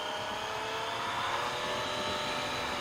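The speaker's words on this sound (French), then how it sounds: "Et le petit sifflement du 3 cylindres, c'est super agréable" A 2017 Triumph Street Triple RS 765 three-cylinder engine whines and whistles steadily while riding, a constant loud drone with high whistling tones and wind rush throughout.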